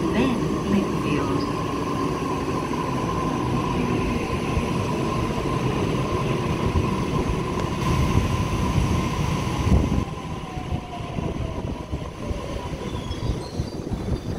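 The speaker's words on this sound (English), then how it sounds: "We have a Waratah approaching platform 4" A Waratah electric train rumbles into platform 4 at Chatswood station, a loud steady roar of wheels and motors with a sustained high squeal, easing off near the end as a voice talks faintly.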